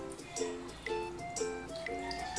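Water runs at a sink while seamless nipple tapes are rinsed, giving soft, faint splashing and trickling in uneven pulses with no clear talking.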